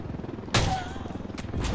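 Gunfire in Ghost Recon Wildlands on PS4: a loud burst of shots breaks out at about half a second, followed by further sharp reports and rattling fire over a steady background din of battle.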